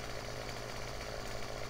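Chainsaw idling steadily in a Farming Simulator 15 logging session, a constant buzzy engine drone at even volume throughout, close and alone with no speech.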